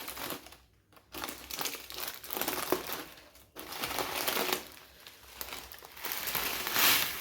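Plastic semiya (vermicelli) packet handled while cooking egg semiya, crisp crinkling and crackling in uneven bursts with two brief pauses, close and fairly loud.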